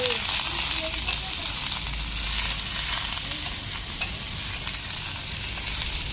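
Red chillies, garlic, curry leaves, cumin and pepper fry in a pan over a strong flame for a village-style fish curry, giving a steady close sizzle with soft stirring scrapes throughout.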